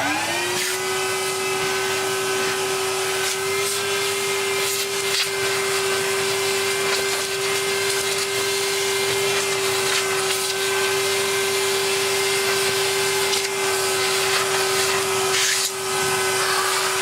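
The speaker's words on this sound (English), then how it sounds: "we could also go one step further and vacuum it." A vacuum cleaner runs continuously while cleaning out a Beko VRT6221P vacuum during a light service, giving a steady, loud motor whine with an even airflow roar from start to finish and no talking.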